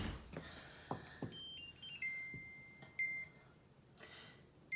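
A kitchen timer gives a series of short, high electronic beeps as it is set, with a few clicks and soft handling sounds around it at close range.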